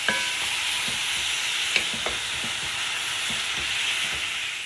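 Meat and fat frying together in a cauldron, a steady close hiss with light intermittent ticks and pops throughout, alone without talk.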